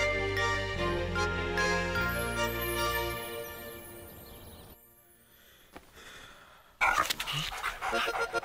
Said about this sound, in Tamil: ஓ, இந்த சீன்ல நாய் இருக்கா?